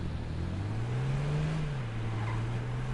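A car engine in a video game drones steadily, its pitch climbing as it revs and then easing back to a lower hum, with no talking.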